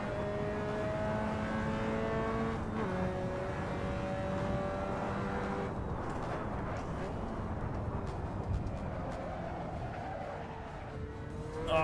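A modded car engine in a racing video game roars steadily with a rising, sustained whine, then turns rougher and noisier as the car corners, with no talk over it.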